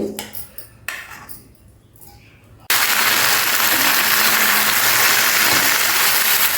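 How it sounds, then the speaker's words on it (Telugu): A few clinks of a utensil against a kadai come first, then gongura leaves hit hot oil and a loud, sudden sizzle starts and holds steady, close up. "ఒక కడాయి పెట్టేసుకుని కొంచెం ఆయిల్ వేసుకుని మనం ఈ గోంగూర వేయించుకుందామండి"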